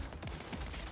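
Rapid turret gunfire in the Saints Row video game, a dense, continuous burst of shots heard alone at moderate distance for under a second.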